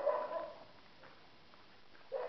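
A dog barks a few times at a distance, short faint yelps at the start and again at the end with a quiet gap between, no voices.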